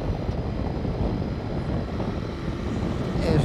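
Ducati DesertX Rally motorcycle engine running in Sport mode on an open road, a steady low rumbling drone with wind noise, fairly quiet and continuous with no speech.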